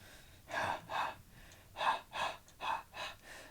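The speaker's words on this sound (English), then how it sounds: "The sound of my breathing is ragged." Ragged breathing in the visual novel Tsukihime comes as six or seven quiet, close gasping breaths in an uneven rhythm, each a short airy rasp, heard alone.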